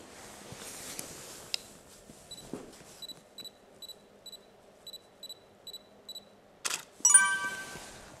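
A camera used for product photography under two spotlights gives a series of short rhythmic electronic beeps, then sharp shutter clicks close by in an otherwise quiet room.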